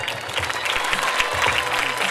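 Schoolgirls at a school Teachers Day celebration applaud in a dense, steady crowd clapping that carries evenly across the whole stretch, loud and close.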